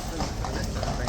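Horses' hooves clip-clop in a steady rhythm as mounted troopers ride off, close and fairly loud, with people talking over the hoofbeats.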